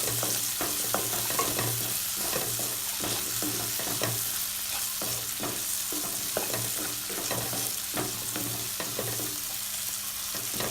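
Tomatoes with a little salt fry in a pan for potato kurma: a constant close sizzle broken by frequent rhythmic scraping strokes of a stirring utensil, with no voices.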